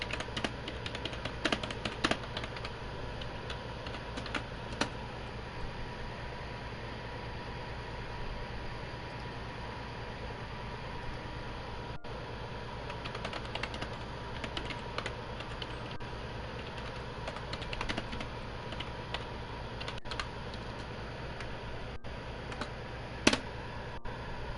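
Computer keyboard typing at a desk, faint and steady, with scattered key clicks over a constant low hum and background hiss and no talking.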